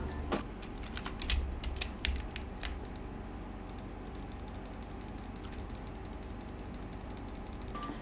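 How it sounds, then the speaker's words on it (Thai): Rapid computer mouse clicking taps cluster in the first few seconds, then thin out over a steady background hum; close and fairly quiet, with no voices. "ทุกคนได้ยินเสียงเมาส์คลิกผมไหมครับ"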